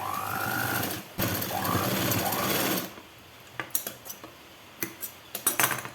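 A sewing machine runs steadily while stitching a 42-inch blouse, a close whirring motor that rises and falls for about three seconds, then stops, leaving scattered small clicks and taps of handling the fabric.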